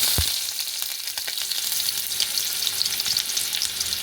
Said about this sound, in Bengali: দেখুন আমি এর মধ্যে পেঁয়াজটা দিয়ে দেবো